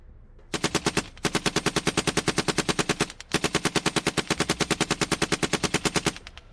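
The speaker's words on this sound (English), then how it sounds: "The remaining attackers opened fire" Sustained automatic gunfire as a sound effect, two long loud bursts of evenly spaced rapid shots, each about two and a half seconds, split by a brief gap, with no talking.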